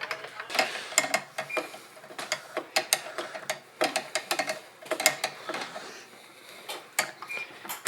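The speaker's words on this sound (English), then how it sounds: "It's nice that they give you a real screwdriver for it." A screwdriver drives a fastener into a component during a gaming PC build with an AMD Ryzen 9 7950X and RTX 4090, producing close, dry ratcheting clicks in quick irregular bursts, with no speech.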